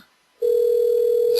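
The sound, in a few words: telephone ringing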